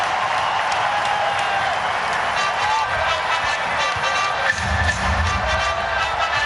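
A basketball arena crowd at a Portland Trail Blazers versus Utah Jazz playoff game cheers and applauds for Scottie Pippen as he returns. The noise is a sustained, loud roar, and a commentator talks over it.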